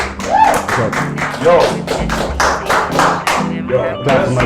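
Clapping and hand taps among a lively group at a casual Nigerian hangout, several sharp strikes in a row mixed with excited talk and music close by.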